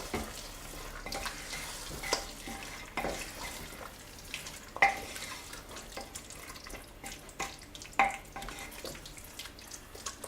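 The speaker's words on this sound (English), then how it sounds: "Let's give this a little stir around." Chicken curry sizzles and fries in a pan while it is stirred, with soft scraping clicks and occasional sharper knocks over a quiet, crackling background.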